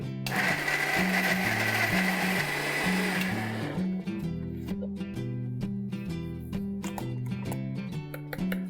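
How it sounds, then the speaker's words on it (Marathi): A kitchen mixer grinder whirs loudly and steadily, grinding cashews, tomatoes, ginger and garlic into a masala paste, its motor pitch wavering as the blades churn through the mix, with no voices over it. "हे सगळं मिक्सरमध्ये बारीक करून घेऊया आपण।"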